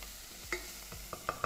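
Bacon, garlic and onion fry in olive oil in a pan as the start of a farofa, with a faint sizzle and a few light clicks and scrapes of stirring, and no voices.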